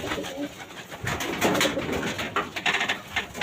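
Several racing pigeons coo in a loft, overlapping low, rolling calls close at hand that rise and fall continuously with no talk.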